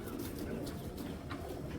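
Paired pigeons coo softly and repeatedly, low murmuring calls close by, with faint chirps and background noise.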